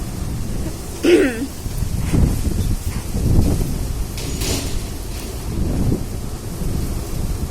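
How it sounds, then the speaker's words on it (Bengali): Strong storm wind gusts roar and buffet in uneven surges under darkening clouds, with rustling and rattling, plus a brief whistling squeal early on. "তো দেখো ঝড় উঠেছে"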